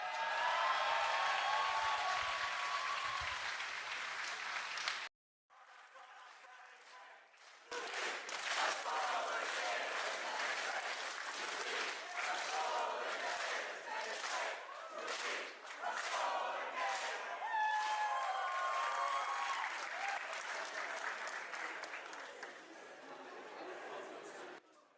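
Crowd cheering and applauding at a solar car race awards ceremony, loud sustained roar with whoops and clapping after a brief gap, lasting through most of the stretch.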